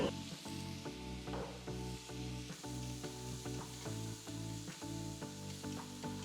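Finely chopped large tomato sizzling in a hot pan for mushroom pepper masala, a loud, continuous crackling fry with repeated stirring scrapes in an uneven rhythm.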